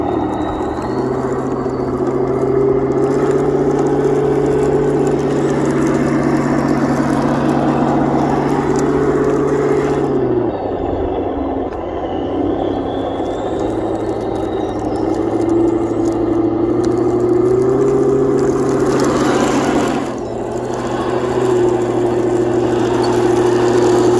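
A Heng Long 1/16 scale Tiger 1 RC tank grinds through sand, its steady electric drive whine and motor hum running close and continuous, dipping briefly mid-turn before climbing again as it keeps moving.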